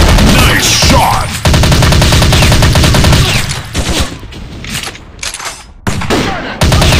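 Rapid automatic gunfire in the Android shooter Gun War, loud close bursts of machine-gun fire with a brief break, then sporadic single shots and another sustained burst near the end.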